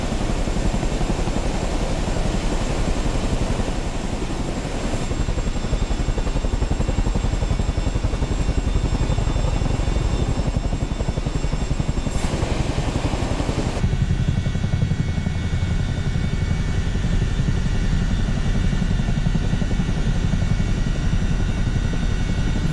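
Chinook helicopter climbing up an Everest mountainside, its heavy rotor and turbine roar loud, steady and continuous from inside the cabin.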